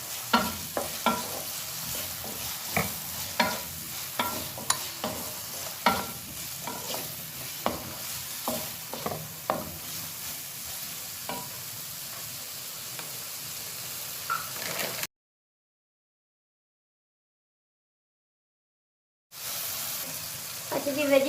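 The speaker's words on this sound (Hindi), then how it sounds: "इसके साथ इसमें जाएगा कैप्सिकम। तो करेंगे अच्छे से सौटे।" Julienned capsicum sautés in a pan, a soft steady sizzle punctuated by regular scraping stir strokes; the sound drops out completely for a few seconds, then the sizzle returns.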